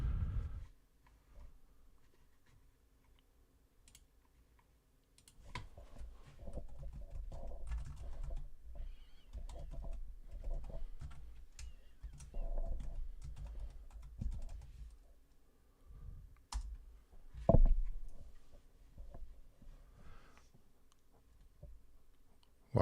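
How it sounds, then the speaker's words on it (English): Typing on a computer keyboard during a live Q&A about the Bambu Labs X1 Carbon, quiet clustered keystrokes and clicks coming in bursts and pauses, close and soft. "I'll type it in the chat."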